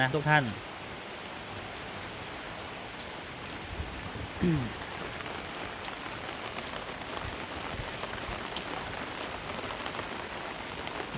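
Steady rain pours down in a rural Thai yard with flowering plants, a dense even hiss of drops on surfaces that holds without a break, with faint brief voice-like sounds near the start.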